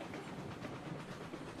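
A locomotive straining to haul a long train of cars up a steep slope in the game Railroads Online, a low, faint, steady rumbling drone with no talk over it.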